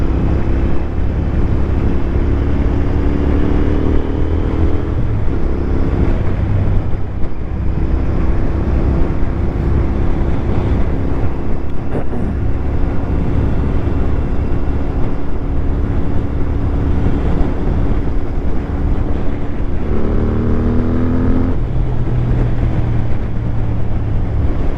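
A Buick car driving along a road, giving a steady, loud engine and road drone with low rumble and shifting tonal hum throughout, close and continuous with no talking.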